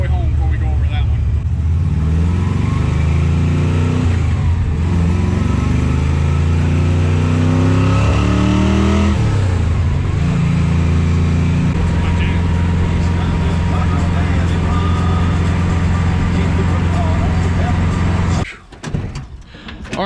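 A used Super Sport car drives along with a loud, steady engine drone. The revs rise and fall a few times, and the clip ends with a brief thump.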